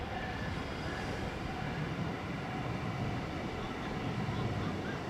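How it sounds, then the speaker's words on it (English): A Miami train passes behind an outdoor tennis event, giving a steady, broad rumble and hiss that fills the whole stretch at moderate loudness. "You can see the Miami train back there."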